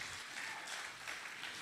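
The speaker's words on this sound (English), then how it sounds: "Yes, yes, you should clap for that." Church congregation clapping, a soft, fairly distant patter of many hands that holds steady through a short burst.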